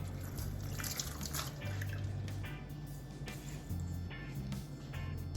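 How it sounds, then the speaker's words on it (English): Water trickling and splashing steadily from a tap or jug into a bowl of flour and salt for dumpling dough, a soft continuous pour nearby with small drips. "As always, we're adding just a little water as we go on."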